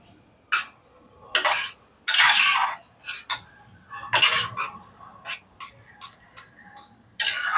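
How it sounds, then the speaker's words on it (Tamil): Kesari sweet, roasted in ghee, is stirred in a pan with a spoon, giving irregular close scraping and clinking strokes separated by short quiet gaps. "வந்து நல்லா கலக்கி விட்டுருங்க"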